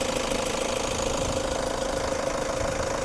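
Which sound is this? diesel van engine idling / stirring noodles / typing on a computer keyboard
diesel van engine idling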